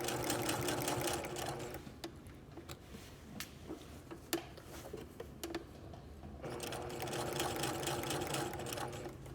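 A sewing machine stitches a convertible collar in loud whirring runs at the start and end, with a quieter stretch of clicks and ticks between them and no talking.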